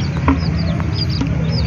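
Chickens clucking close by with chicks peeping, soft repeated calls over a steady low farmyard hum.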